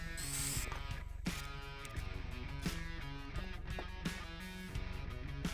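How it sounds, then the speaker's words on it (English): Screws are driven from the back into the frame of a wooden trash can cover, giving quiet, repeated whirring and ratcheting bursts from the driver with brief pauses between them. "I'm just going to screw these to the frame from the back."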